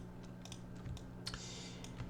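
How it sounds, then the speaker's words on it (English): Keys click on a computer keyboard in short irregular bursts of typing, faint and close against a low steady hum, with no talk. "I can even type here title"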